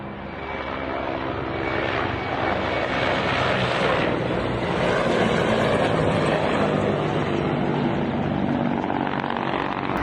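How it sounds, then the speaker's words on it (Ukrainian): A pair of Mi-24 attack helicopters flying low, heard as a steady, loud rotor and engine roar that fills the whole stretch with no letup and swells slightly toward the middle. "У соцмережах також з'явилося відео із парою ударних гелікоптерів Мі-24"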